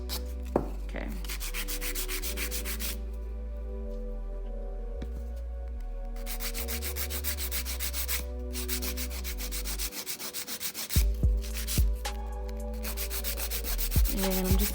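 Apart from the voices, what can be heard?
filing edges of acrylic nails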